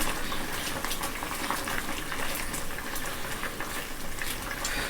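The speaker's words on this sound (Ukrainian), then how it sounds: "Бачите, яке кипіння продовжується." White acacia and lemon jam boils in a pot, giving a continuous, dense bubbling and hissing roar at close range with no talk over it.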